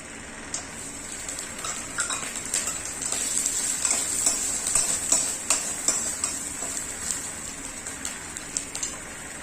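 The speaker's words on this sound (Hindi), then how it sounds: "अब फिर से हम 1 चम्मच ले लेते हैं सरसों का तेल। अब हमारा करील को हम भून देंगे।" Karil frying in a spoonful of mustard oil, a continuous crackling sizzle dotted with small pops and faint ticks of stirring, close and steady, with no voices.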